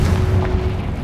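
A Confringo blasting spell explodes in the video game Hogwarts Legacy, a loud, deep rumbling boom that fills the whole moment and tails off slightly.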